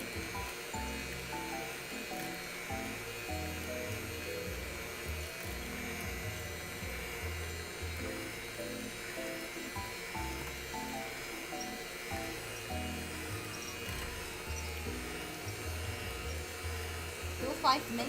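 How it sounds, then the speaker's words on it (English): An electric whisk beats chocolate cake batter in a home kitchen: a steady, close motorized whir with a rattling edge that runs unbroken throughout, rising briefly at the very end. "I wonder how much I have to whisk it though."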